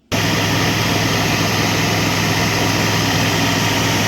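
A food processor spinning flour, salt, sugar and cold sourdough discard for a vegan pie crust, starting abruptly and then running as a loud, steady motor drone with a constant whirring whine.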